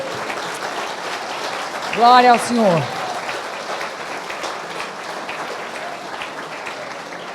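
A church congregation applauds in a sustained wash of clapping during a morning service, heard at moderate distance while a voice briefly calls out over it.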